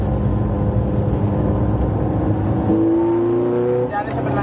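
Ferrari 430 Scuderia engine racing around the Nürburgring short track, a loud sustained drone with rising pitch as it accelerates, with someone speaking throughout.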